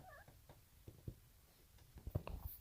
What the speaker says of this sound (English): I was playing with my cat there.